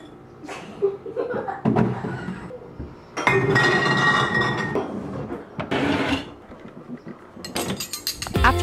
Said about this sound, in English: either Andrew or I put the dishes away